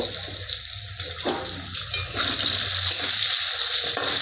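Cut potatoes slide into hot oil in a pan just emptied of fried fish, setting off a steady, close crackling sizzle that swells louder partway through and continues without talk.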